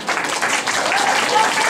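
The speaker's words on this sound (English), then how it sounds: "So let's give him a round of applause," Audience applause at a talks event, a steady dense wash of clapping lasting under two seconds, moderately loud with no pauses.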